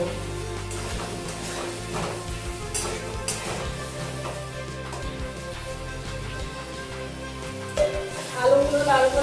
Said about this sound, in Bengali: স্বাদ মতো নুন দিয়ে আলুগুলো বেশ লাল করে ভেজে নেব